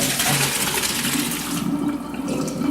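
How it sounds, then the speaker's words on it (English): Cooked pasta drained into a colander in a kitchen sink, a short rush of pouring water splashing through metal holes, loud at first and then thinning out. "we're just going to drain it in the colander in the sink."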